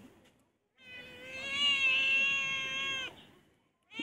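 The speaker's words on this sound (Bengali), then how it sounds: "ম্যাও ম্যাও" A cat gives one long, drawn-out meow, close and fairly loud, with quiet before and after it.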